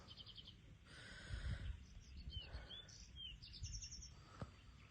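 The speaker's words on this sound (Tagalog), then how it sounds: "Naririnig yung mga yun guys. Huni lang ng ibon." Small birds chirp and tweet outdoors in the Philippine countryside, short bright calls repeating in clusters over a low rumbling background, faint and somewhat distant, with no one speaking.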